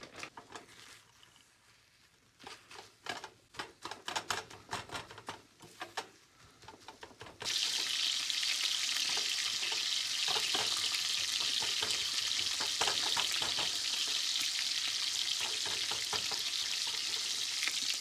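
Bacon sizzling in a frying pan for burgers, first with intermittent crackles and stirring clatter, then a loud, steady, continuous hiss of frying fat with scattered pops, close and alone without talk.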